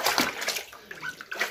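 Water splashes and pours steadily at close range as a dog is washed during a morning routine, with uneven sloshing bursts.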